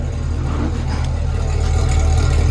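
A 2020 Chevrolet SS with its stock exhaust runs loud and close, a steady deep engine rumble that swells slightly toward the end as it revs, with no talk over it.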